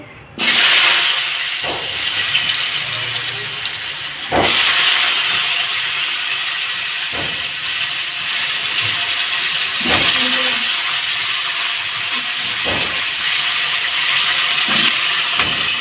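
Oil spatters and hisses steadily in a pan after salt is added, a loud continuous sizzle with a few sharper crackling bursts scattered throughout.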